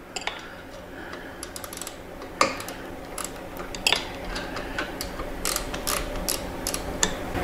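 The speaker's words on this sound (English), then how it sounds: "You've got two 9/16 bolts right here. We're gonna loosen those." A ratchet wrench loosens two 9/16 bolts on a Harley Softail motorcycle frame, giving quick rapid clicks in short bursts with a few sharper knocks, close and fairly quiet, with no talking.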